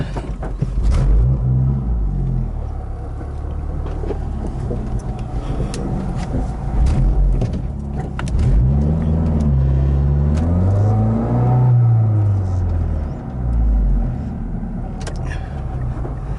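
Car driving on the road after new engine mounts were installed, its engine droning and revving in rising and falling sweeps with road rumble, fairly loud and close from inside the cabin.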